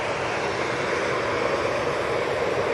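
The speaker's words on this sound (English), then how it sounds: "Another Bizjet." A business jet at Manchester Airport gives a steady, broadband jet roar that stays level and continuous throughout, heard from a moderate distance with no voices over it.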